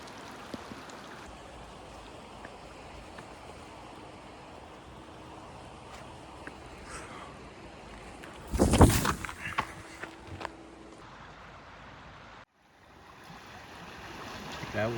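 Rock Creek flows with a soft, steady rush on a hike in Snake River Canyon; the water murmurs faintly throughout beneath a brief loud rustle and handling noise midway.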